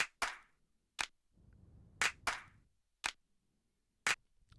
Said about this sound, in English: in the chorus you have a clapping sound